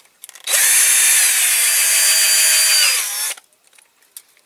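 Power drill boring out a rivet on a Dinky Toys Cunningham C-5R diecast model car: one loud, close, high whine lasting about three seconds, starting and stopping abruptly, with faint handling clicks around it.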